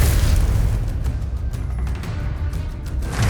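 Explosive spell blast in Hogwarts Legacy, a loud booming burst that rumbles and decays across a few seconds with crackling debris over it.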